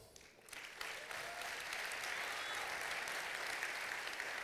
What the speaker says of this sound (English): please give José María a big round of applause.